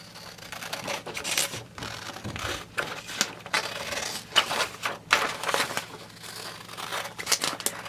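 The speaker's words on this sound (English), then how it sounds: "I'm just going to fold it over lengthways and then cut along that crease" Scissors cutting through a sheet of paper folded lengthways along its crease, a run of crisp snipping and crinkling strokes at close range, each cut a short rustling burst with brief pauses between, no talking.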